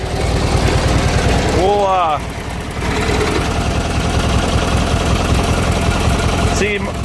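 A junkyard Briggs & Stratton opposed twin engine runs steadily with a loud, rapid, even chugging, briefly dipping in level; someone speaks a word over it.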